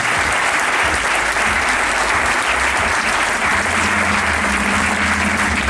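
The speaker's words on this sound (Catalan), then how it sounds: "li demano un fort aplaudiment per a Fernando Mansilla perquè s'ho mereix." A crowd at a bullfighting gala in Santa Bàrbara, Tarragona, gives loud, dense, sustained applause that fills the whole moment without a break, with faint voices underneath.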